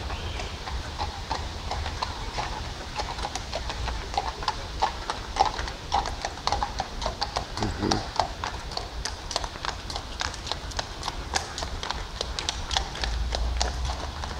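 Hooves clip-clop steadily on pavement as several Polish police horses walk past, a continuous rhythmic clatter over street ambience.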